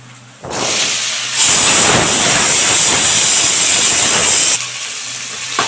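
Tomatoes dropped into hot oil with curry leaves for a peanut chutney, giving a sudden loud, steady steam hiss and crackle that holds for a few seconds, then drops back to a quieter simmer.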